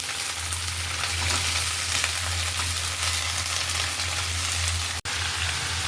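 Vegetables frying in a pan, a steady close sizzle and crackle running continuously with a brief cutoff near the end.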